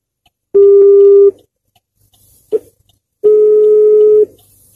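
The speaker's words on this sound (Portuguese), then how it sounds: "Ligar para a pessoa para saber onde." A phone dialing a call, likely by a rideshare driver, gives two long steady keypad tones with a short click between them, close and clear with no talking.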